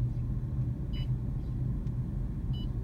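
A BMW i3 electric car driving through the city, heard from inside the cabin as a steady low road rumble and tyre noise, with a couple of faint, brief electronic beeps over it.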